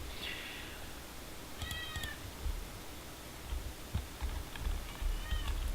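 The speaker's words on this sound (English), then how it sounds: "that's my cat telling me that it is bedtime" A house cat meows a few times at close range, short separate calls over a faint background hiss, with light tapping in between.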